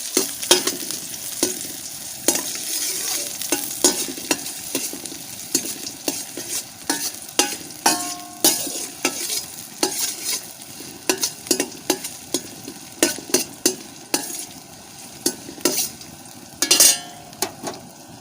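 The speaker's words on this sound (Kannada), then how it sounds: "ಈರುಳ್ಳಿ ಇದಕ್ಕೆ ಹಾಕಿರ್ತಿದ್ದೇನೆ ಅದು ಕೂಡ ನಾವು ಲೈಟಾಗಿ ಫ್ರೈ ಮಾಡಿಕೊಳ್ಬೇಕು" Onion fries lightly in a pan for Kannada-style sesame seed chutney, a soft steady sizzle broken by frequent sharp clinks and scrapes of a spoon stirring against the pan, close up with no talk.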